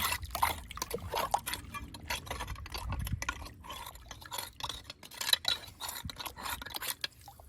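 Water washing down an old gravel deposit gives irregular splashing and sloshing with scattered clinks and rattles of stones, close by and fairly soft, with no talking.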